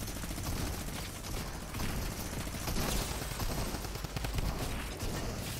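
Continuous dense gunfire in an online squad shooter game, a sustained loud barrage of rapid shots with no clear pauses and no speech.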